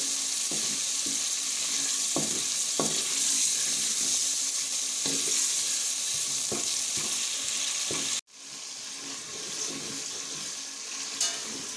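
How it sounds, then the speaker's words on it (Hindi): Spices frying and sizzling steadily in hot oil for dhaba-style moong dal, with occasional stirring scrapes through the constant crackle, close and loud, broken by a brief drop in level. "मसालों को हमने अच्छे से भून लेना है ताकि इसका सारा कच्चापन ख़त्म हो जाए।"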